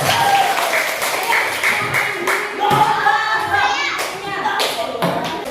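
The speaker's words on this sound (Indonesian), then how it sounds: "Kita kasih tepuk tangan." Children in a classroom clap their hands together in short, uneven bursts, with taps and light thuds mixed in and a teacher's voice and kids' voices talking over the clapping.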